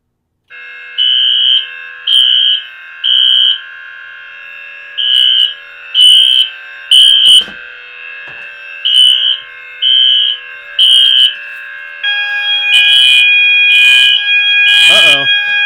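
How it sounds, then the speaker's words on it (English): A loud, shrill smoke detector alarm, set off by test spray, beeps repeatedly in short bursts over a steady tone, becoming continuous toward the end, with faint handling noise. "I guess we activated that smoke detector also."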